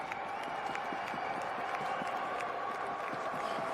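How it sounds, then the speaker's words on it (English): A crowd at the NFL Combine cheers and claps from a distance, a faint steady wash of applause and voices with a soft muffled murmur of talk mixed in. "why are they cheering like crazy in the middle of all that?"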